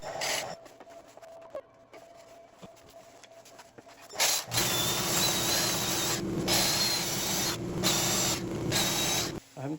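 Sanding a woodturned bird's eye maple piece on the lathe, a steady broadband whir with abrasive hiss that starts abruptly partway through after a quieter mechanical hum, continuing loud to the end.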